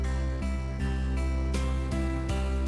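Repeating piano accompaniment on a keyboard, a regular series of struck chords with bright attacks and sustained decay, moderately loud, heard alone without voices.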